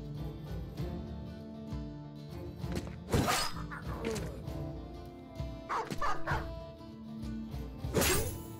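A war dog barks in the video game Battle Brothers, several sharp barks spread through a busy battle soundscape with hits and clashes.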